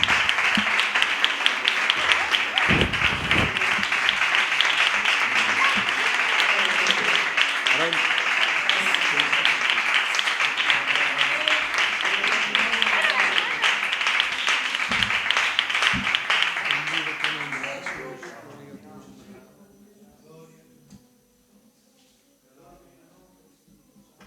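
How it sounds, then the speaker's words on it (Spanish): Congregation in a church in Santoña applauding loudly and steadily for a long stretch, a dense roar of many hands that tapers off and ends, leaving a quiet room. "vamos a dar un fuerte aplauso para el Señor"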